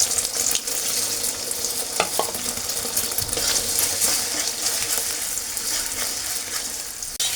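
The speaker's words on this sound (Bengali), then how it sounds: "কড়াই গরম হয়ে গেছে, তার মধ্যে ডিমটা ভেজে নেব।" An egg fries in a hot wok for breakfast noodles, a continuous close crackling sizzle with sharp spitting pops, no voices.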